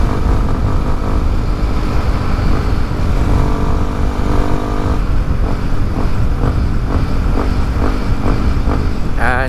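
Yamaha WR155R motorcycle with a stock engine, revved hard during a top-speed run, a loud continuous engine roar with pulsing rev surges toward the end, wind noise throughout.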